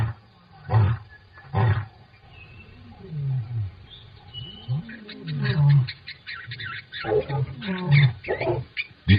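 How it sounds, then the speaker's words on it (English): A lion roars repeatedly in the wild, a series of deep, loud pulsing calls and grunts that rise and fall over several seconds, close to the listener. "A lion's roar can be heard up to 8 kilometers away."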